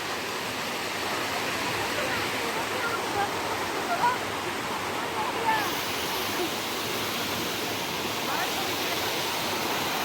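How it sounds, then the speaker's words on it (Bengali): A waterfall beside a swaying hanging bridge near Kalimpong roars as a steady, dense broadband rush throughout, loud and continuous with no other sounds standing out. "ঝর্ণার আওয়াজ"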